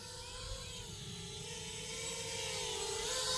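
An FPV drone hovering and moving nearby, its rotors giving a steady high-pitched whine that wavers in pitch as it maneuvers, growing slightly louder, no talking.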